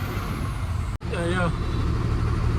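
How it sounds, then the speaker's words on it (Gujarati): Road traffic idling in a jam on the Dharampur bridge in Valsad, a steady low rumble of trucks and cars close by, broken by a brief sharp click and a short whining tone, with faint voices underneath. "ટ્રાફિક જામ આવો ફૂલ વલસાડના ધરમપુર બ્રિજ ઉપર ટ્રાફિક જામ છે"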